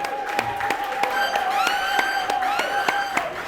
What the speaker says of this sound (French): Applaudissons pour Papa Ben.